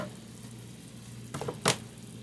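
Garlicky chicken noodle soup ingredients cooking in a pot: a low, steady sizzle with a couple of sharper crackles and a stirring clink near the end, close and fairly quiet.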